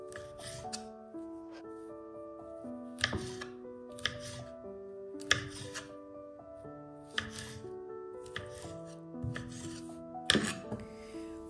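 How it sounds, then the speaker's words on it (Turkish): Tangerine peels are chopped in a handful of sharp, irregular cuts, clearly audible over steady background music. "Mandalina kabuklarını doğradım."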